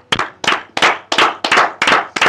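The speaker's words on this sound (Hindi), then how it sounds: "पहले तालियां।" Seven sharp, evenly spaced hand claps ring out loud and close, each one distinct, during a cricket broadcast celebrating a batsman reaching 150 runs in a Pakistan versus England match.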